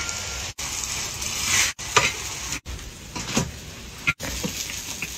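Flatbread frying in hot oil in a home kitchen, a steady close sizzle with brief bursts of bubbling and a few short breaks as the bread is handled.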